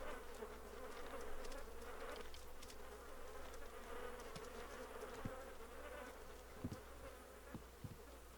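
Flies buzzing around rotting corpses in the survival video game DayZ, a steady close insect drone that swells and fades over several seconds with a few soft thuds underneath, no voices.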